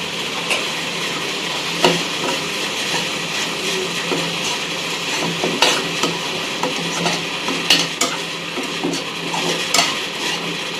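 Shrimp frying in a pan with ginger garlic paste, with steady sizzling throughout and sharp stirring and scraping clicks now and then.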